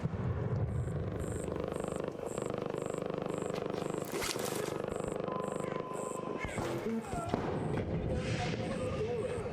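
Gunfire between players in ARC Raiders, a rapid, regular stream of shots ringing out steadily at a distance, with game sounds and a player talking over it.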